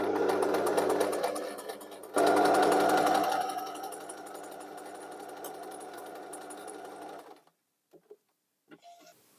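A sewing machine runs a French seam in a loud, steady rapid stitching buzz that surges after a short pause, then eases before stopping, followed by a few faint handling clicks.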